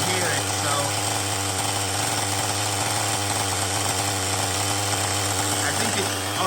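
An LRP 32x Spec 4.1 nitro engine idles during break-in, producing a close, continuous buzzing drone with a fast, even pulse that holds steady throughout.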